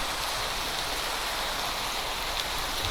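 Rain falling in a video game, a dense steady hiss of drops that stays constant throughout with no other sounds and no voices.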